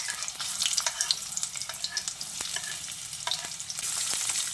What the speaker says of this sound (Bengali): পেঁয়াজটা দিয়ে হালকা করে একটু ভেজে নিতে হবে